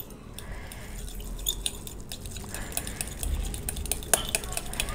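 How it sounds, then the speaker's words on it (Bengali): A fork beats thick strained yogurt in a bowl, with quick continuous clinks and soft scraping against the dish, close up and steady for several seconds, with no voices. "দইটাকে এখন আমার একটা কাঁটা চামচ দিয়ে খুব ভালোভাবে ফেটে নিতে হবে।"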